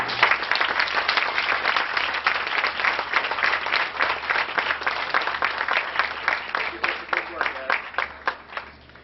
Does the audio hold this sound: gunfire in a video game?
no